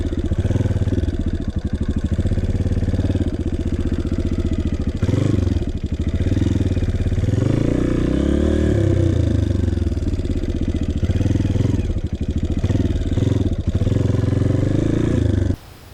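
A dirt bike engine runs loud and steady through a sharp, tight turn, its mid-pitched drone wavering with throttle changes and brief revs, then cutting off abruptly at the end.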